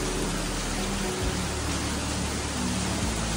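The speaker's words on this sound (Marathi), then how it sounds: "पावसाचा जो आवाज येतोय ना या पत्र्यावर जो पाणी पडतो त्याच्यामुळे जो आवाज येतोय" Heavy rain drums on a metal sheet roof, a dense, loud and continuous hiss and patter that fills the whole stretch without pause.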